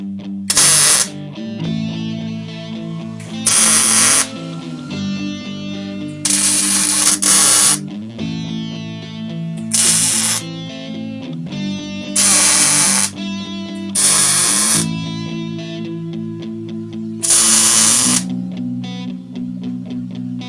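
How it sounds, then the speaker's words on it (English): Plug welding on a custom scratch-built truck tailgate: a steady buzzing, crackling MIG-type arc comes in roughly eight short bursts of one to two seconds each, loud and close, with no talking. "got all those plug welds plugged or welded"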